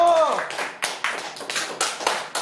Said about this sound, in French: Applaudissez le poète.